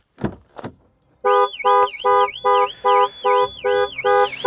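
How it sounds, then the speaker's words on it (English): Two dull thumps, then a loud Range Rover Sport SV car alarm blares a repeating warbling siren in regular pulses, about eight cycles, very close. "the alarm goes off all the bloody time"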